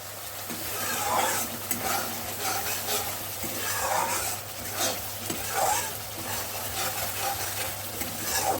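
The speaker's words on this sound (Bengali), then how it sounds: "ভালো মতো সর্ষেটা ভেজে দিয়ে দেব" Mustard paste frying in hot oil for a mustard fish curry, a loud close sizzle with steady stirring scrapes in a pan, no talk.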